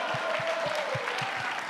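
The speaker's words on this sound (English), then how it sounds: "can I just get a round of applause for the wonderful warm-up performances we've had today?" An audience applauds warm-up performances at the Mr. CCH 2022 event, giving a steady, dense wash of clapping that fills the whole moment, with soft low thumps pulsing underneath.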